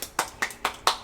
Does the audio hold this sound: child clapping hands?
yes